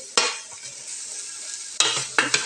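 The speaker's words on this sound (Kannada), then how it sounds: "ಪನ್ನೀರ್ ಒಂಚೂರು ಫ್ರೈ ಮನ್ಪುಗ" Paneer frying in a pan with tomato, a soft continuous sizzle broken by sharp stirring scrapes of a spatula at the start and again near the end, close up.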